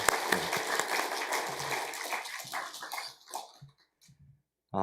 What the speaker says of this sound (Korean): 우리 연합찬양대 찬양을 받으신 하나님께 다시 한번 영광의 박수 올려드리겠습니다.